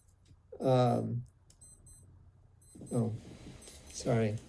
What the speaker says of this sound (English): alarm's going off again.